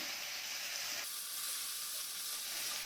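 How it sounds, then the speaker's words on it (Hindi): Tomatoes sizzle steadily as they fry in a pan for a dry urad dal recipe, a continuous close hiss that brightens partway through, likely as a ladle stirs them; no voices. "टमाटर को थोड़ा नरम होने तक भून लेंगे। कड़छी लगातार चलाएंगे।"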